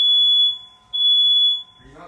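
A home fire alarm shrieks with a piercing, steady electronic tone in two long loud pulses, close by, with a voice starting up faintly at the end.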